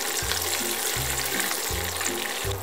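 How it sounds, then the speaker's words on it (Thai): Mackerel frying in a pan for a Thai chili-paste dish, giving a steady, close, dense sizzle that runs unbroken through the whole stretch, with a faint low murmur beneath it. "ระหว่างที่ทอดปลาทูอย่าลืมกลับด้านปลาทูด้วยนะคะ"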